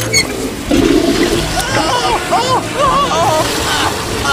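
Cartoon toilet flushing in an animated film scene, with swirling, gurgling water rising and draining in the bowl, while animated voices chatter and squeal playfully over the rushing flow.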